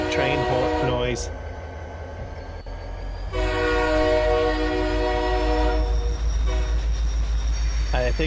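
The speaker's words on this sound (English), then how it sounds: "I think much better locomotive noises." Train noise from a locomotive in Farming Simulator 25: a steady low rumble of rolling stock carries throughout while a loud horn sounds a long blast in the middle, with a shorter tone near the start and a voice talking over it.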